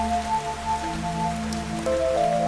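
Steady rain falls in the video game Fantasian Neo Dimension, a dense, even patter that runs throughout alongside soft sustained musical tones.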